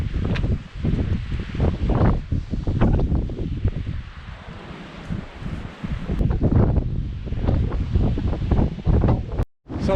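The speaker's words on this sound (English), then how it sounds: "Excuse the noise from the wind." Strong gusty wind buffets the microphone outdoors in the Baja desert near a truck camper, a loud, continuous roar with rising and falling surges and a brief dropout near the end.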